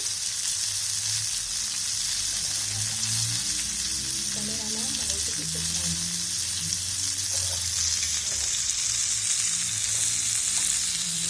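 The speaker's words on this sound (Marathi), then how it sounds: "अशी मस्तपैकी तळून घ्यायची." Rava-coated halibut fish shallow frying in a pan of oil, giving a loud, continuous, close sizzle that holds steady throughout, with faint low background noises and no clear talking.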